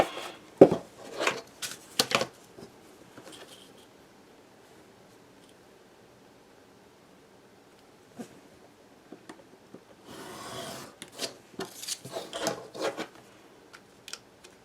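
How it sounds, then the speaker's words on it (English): Wood for a tiki hut is trimmed in short scraping, rasping bursts, an early cluster and a longer busy stretch later, with a quiet gap between. "I'm going to trim that one a little bit more"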